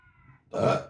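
A single short, loud burp erupts close by after a brief quiet moment, with no talking around it.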